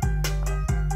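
Piano layered over the rebuilt drum track of an AI-generated fake song, with sustained chords ringing under regular drum hits in a brief, close excerpt.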